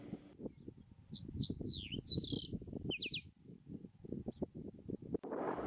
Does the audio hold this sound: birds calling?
yes